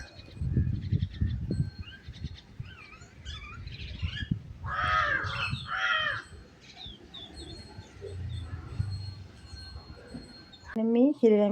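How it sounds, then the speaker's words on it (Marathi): Several birds chirp and call with crows cawing in short bursts, moderately close amid an outdoor backyard garden, with a person talking in between and low rustling handling sounds. "पक्षी ओरडतायत."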